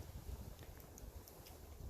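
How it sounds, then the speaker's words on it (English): Steady low wind rumbling across the microphone on a cold morning, a continuous buffeting roar with faint high wisps, outdoors beside an RV trailer, with no talking. "it's kind of cold and windy this morning"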